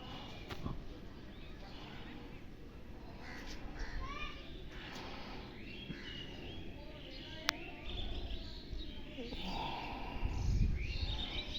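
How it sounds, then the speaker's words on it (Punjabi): Crows cawing and other birds calling around a Punjabi village, several overlapping calls near and far over a steady outdoor hum, with low rumbling noise and voices or activity in the background. "ਕੰਨਾਂ ਨੂੰ ਸਕੂਨ ਜਿਹਾ ਆਉਂਦਾ ਜਦੋਂ ਪੰਛੀਆਂ ਦੀਆਂ ਆਵਾਜ਼ਾਂ ਕੰਨਾਂ 'ਚ ਪੈਂਦੀਆਂ"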